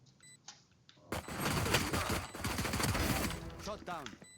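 Pistol fire in Valorant, a tactical shooter, heard as a cluster of sharp shots and impacts amid game effects, moderately loud with busy in-game sound around them.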